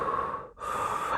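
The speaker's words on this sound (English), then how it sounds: "Did this breathing technique to calm me down" A deep, slow breath drawn in and then released, close and audible, part of a calming breathing technique used to ease panic while pulled over on a mountain road.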